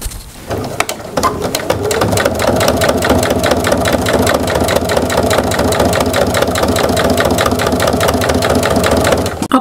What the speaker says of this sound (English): now I just need to do the top stitching on this other side seam